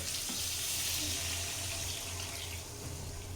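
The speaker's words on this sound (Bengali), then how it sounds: "এবার দেখো নারকেলের দুধ দিয়ে দেওয়া হবে চিংড়ি মাছের মালাইকারির মধ্যে।" Coconut milk pours into a simmering prawn malai curry in a home kitchen, making a steady, close liquid rush over a low hiss and sizzle that runs the whole way with no talk.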